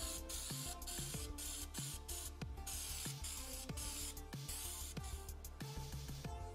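Continuous hiss of U-POL Raptor bed liner spraying from a spray gun onto a 1994 Toyota Pickup rear bumper, a steady close airy rush with repeated brief pauses and restarts between passes.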